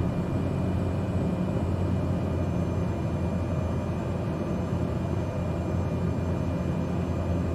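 Cessna 208B Grand Caravan turboprop engine in Microsoft Flight Simulator 2020, flying from Smithers to Terrace, a constant loud low drone with airy noise that holds unchanged and steady throughout.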